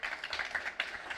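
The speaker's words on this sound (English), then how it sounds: "applause." An audience at a producers' pitching session in Cannes breaks into brief applause, a dense patter of many hands clapping steadily for a moment.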